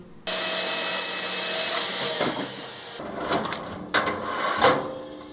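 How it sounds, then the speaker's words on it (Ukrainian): A machine splits firewood rounds at a forestry enterprise, a steady loud mechanical drone with crunching cracks of wood splitting toward the end, no talking. "Кругляки колять спеціальною машиною."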